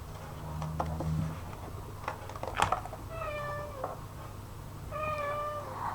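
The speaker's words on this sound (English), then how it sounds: "now my cat's whining at me because I'm sitting here ignoring him" A cat meows twice nearby, long drawn-out plaintive cries separated by a pause, with small clicks and rustles in a quiet room.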